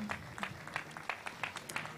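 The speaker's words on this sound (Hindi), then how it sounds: "जोरदार तालियां" Audience at a classical music festival gives a faint, brief patter of applause for a tabla player, the scattered claps thin and distant over a low hum.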